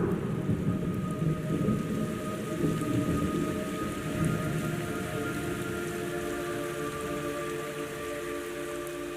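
Steady rain pours down with a constant hiss in Metal Gear Solid Delta: Snake Eater, accompanied by a low rumbling undertone and a faint sustained tone, no voices present.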